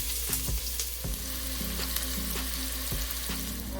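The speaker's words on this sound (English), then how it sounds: "We have our delicious chopped up onions, and we're going to fry these just a little brown" Chopped onions fry in about a tablespoon of olive oil, giving a close, continuous sizzle broken by regular spoon taps and scrapes against the pan.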